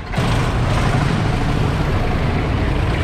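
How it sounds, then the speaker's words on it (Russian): Old tractors drive past on a road in Austria with a close, loud, steady engine rumble and road noise that starts abruptly and holds throughout. "Теперь с этой стороны едут трактора."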